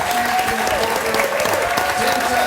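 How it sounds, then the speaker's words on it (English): A room full of players and spectators at the 2013 World Series of Poker Main Event gives a sustained, dense round of applause, steady and loud throughout. "Doyle Brunson receiving a well-deserved round of applause from the entire room."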